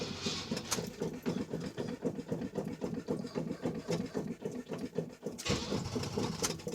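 A 1969 Chevy C10 truck with a dead battery fails to start: a rhythmic, labored starter cranking repeats steadily for several seconds, slowing and briefly pausing near the end without the engine catching.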